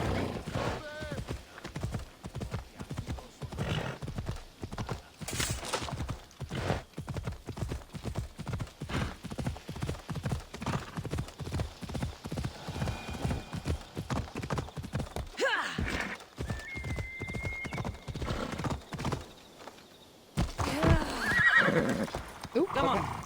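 A steady, rhythmic gallop of hooves runs almost throughout from a horse in Assassin's Creed Odyssey, broken briefly near the end by a pause and a loud neigh, with game effects in the background.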